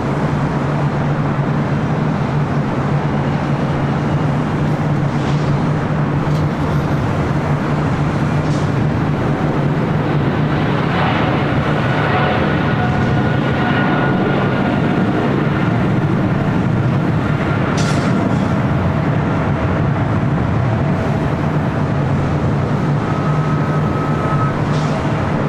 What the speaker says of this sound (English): We got Speedbird about to take off on the south side, 25 right